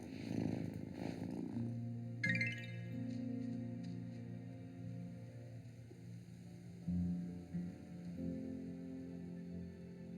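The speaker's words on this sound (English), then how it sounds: "Listen to that purr." A low, steady cat purr with a rumbling tone continues throughout in the video game Wylde Flowers, joined by soft layered ambient tones, with no talking.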